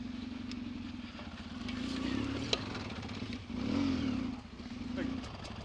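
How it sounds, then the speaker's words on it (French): Several off-road motorcycles, including Suzuki DR enduro bikes, idle and rev together in a group of about ten at the start of a ride, a steady low engine drone swelling and easing, with people talking nearby. "là on a 10 motos, il y a quelques enduro, quelques DR Suzuki"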